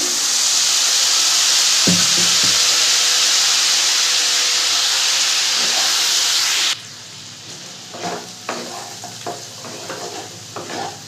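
Spiced potatoes sizzle and hiss loudly in a pan for a Bengali-style rohu fish curry, a steady frying roar that cuts off sharply, leaving softer scrapes and clinks of stirring.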